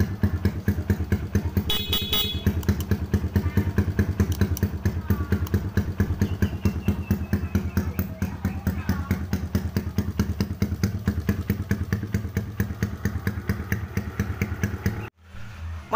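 A Honda CRF motorcycle fitted with a swapped carburetor idles close by with a rapid, steady single-cylinder putter and mechanical clatter lasting about fifteen seconds before cutting off abruptly.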